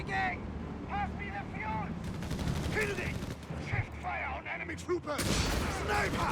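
Sharp sniper rifle reports crack out amid busy battlefield gunfire and rumbling vehicles in a Company of Heroes 3 match between Afrika Korps and US forces, with a commentator's voice running over the action.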